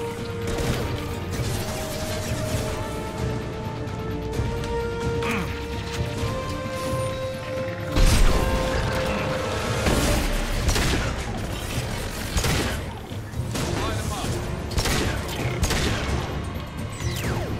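Rapid gunfire and crashing impacts during combat in the video game Mass Effect 2, dense and continuous bursts with a louder blast partway through, under occasional talk.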